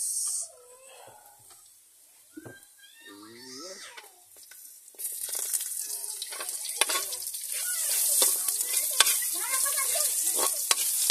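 Onion dropped into a pan after garlic, bursting into a loud crackling sizzle midway that grows steadily, following a quieter stretch with brief voice-like sounds.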